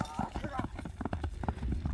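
A horse gallops with a rapid, rhythmic clatter of hooves, heard close. Voices of people talking run over the hoofbeats.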